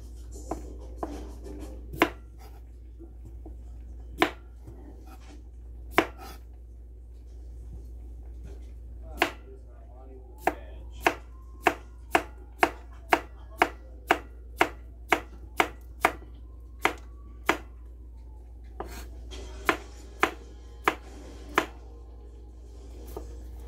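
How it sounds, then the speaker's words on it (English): Small slicing cucumbers cut with a knife on a board, a long run of crisp, sharp chops, sparse at first and then in quick steady bursts, close and clear over a faint low hum, with no talk. "Then I have some little slicing cucumbers. I'm going to slice some of that up in here."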